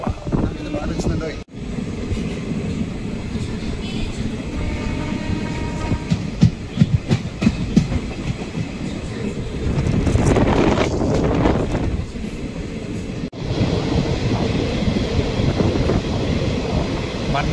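A passenger train on the Hyderabad to Goa line in monsoon season rumbles along the rails with a steady clatter. Heavy wind buffets the microphone throughout, with a few louder jolts.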